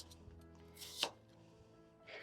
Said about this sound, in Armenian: Մանր եմ կտրատում, որպեսզի շուտ եփվի։